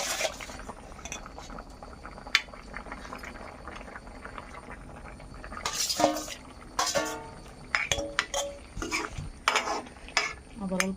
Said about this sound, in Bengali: মাছগুলো দিয়ে আবার অল্প টাইম জাল করে নিব সবজিটা